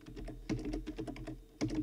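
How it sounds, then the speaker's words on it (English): Someone types on a computer keyboard while writing HTML and CSS code, with a quick, close run of light key clicks and a few firmer taps, and no talking. "and then you just type as normal."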